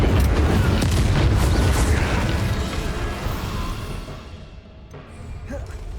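Incendio fire spell cast in Hogwarts Legacy on Switch: a dense, roaring burst of flame with a deep rumble that swells and then slowly fades, loud and continuous with no talking.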